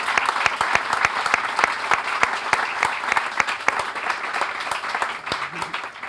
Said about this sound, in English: please join me in one more round of applause for all today's speakers